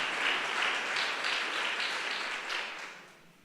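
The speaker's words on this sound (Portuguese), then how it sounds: "Pode aplaudir mais forte o Senhor, porque Ele é a resposta da nossa tribulação." A church congregation applauds during a worship service: steady, dense clapping from many hands that holds evenly for a few seconds, then fades toward the end, moderately distant, with no talk over it.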